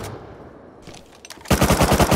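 Rapid burst of submachine-gun fire from an MP5 in the survival game Rust, loud and close, a steady automatic stream after a quieter lead-in of ambient noise and faint movement.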